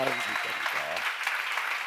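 Applause from a seminar audience rises after a voice trails off at the start, then continues as a steady wash of clapping.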